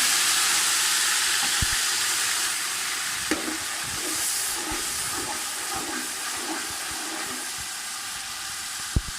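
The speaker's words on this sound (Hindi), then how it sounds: "अदरक लहसुन के पेस्ट को हमने 1 मिनट तक हाई फ्लेम पे सोते कर लिया है" Ginger and garlic paste frying in hot oil over a high flame, a steady bright sizzle with occasional sharp pops and clicks of stirring, close and moderately loud, no voices.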